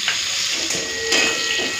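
A short, close burst of prawns sizzling in a frying pan: a continuous crackling hiss with a couple of light stirring swells and no voices.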